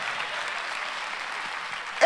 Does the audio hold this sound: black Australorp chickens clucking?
no